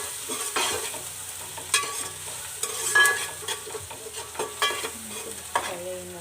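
Ginger garlic paste fries in a pan for a cauliflower and potato curry, sizzling close by while a spoon scrapes and stirs it in repeated strokes, with no voices.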